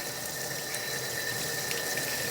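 Warm tap water running steadily into a sink while farm-fresh eggs from Frizzle and Polish hens are washed, a constant close splashing hiss without pause.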